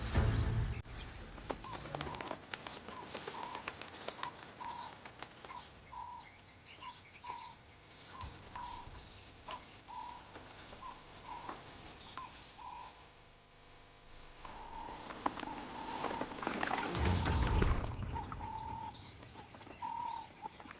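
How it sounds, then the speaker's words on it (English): Doves cooing in African treetops, a repeated soft, low coo recurring steadily through a noisy outdoor soundscape, with a louder rustling burst near the end. "The doves, wise to his scheme, retreat to the treetops."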